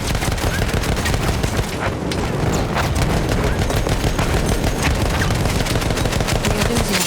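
Anti-aircraft gunfire in Battlefield 1 pounds without pause as a dense, loud barrage of rapid shots and booms, with no talk over it.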